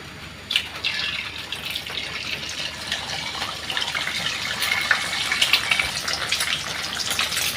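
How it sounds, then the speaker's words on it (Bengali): Cold tap water runs steadily over boiled pasta being rinsed in a kitchen, a continuous close splashing gush with no talking. "ঠান্ডা পানি দিয়ে এখন একটু ধুয়ে নিতেছি"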